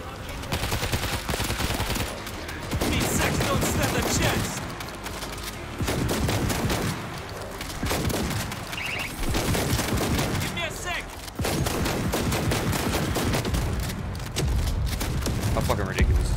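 Shotgun blasts in the zombie shooter World War Z, with repeated loud gunfire and booming shots packed densely through the stretch, mixed with other weapons firing and voices talking over the action.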